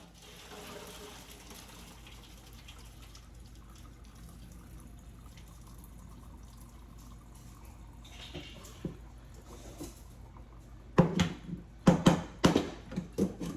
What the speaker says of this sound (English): I'm gonna pour the water out into the sink and just leave potatoes in here.